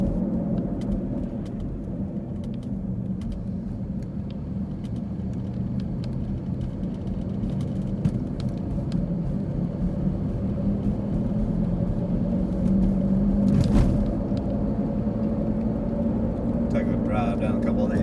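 A car drives through the old streets and historic neighborhoods of North Knoxville's Old City, giving a steady, continuous low rumble of engine and road noise throughout, with a slightly brighter swell near the end.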